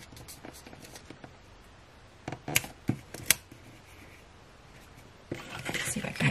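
Scissors snip at a paper sticker being trimmed in a planner, several short crisp cuts in a quiet room, with a brief rustle of paper handling near the end.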